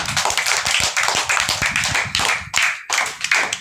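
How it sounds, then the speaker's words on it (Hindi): Children in a tuition class clap together in quick rhythmic bursts, a series of close, sharp hand claps with short gaps between them. "चलो इसके लिए भी ताली मारो"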